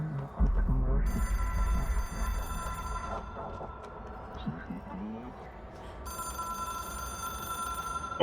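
A ringing telephone in Control trills in repeated bursts, with pauses between the rings, over low rumbling ambience and brief thumps.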